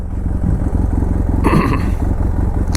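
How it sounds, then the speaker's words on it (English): A 2010 BMW F800GS parallel-twin fitted with a Remus exhaust runs with a steady, loud, throbbing pulse close by, while a brief burst of clatter or wind noise briefly rises over it midway. "Sound of the bike, it's got that Remus exhaust, so that sounds really good."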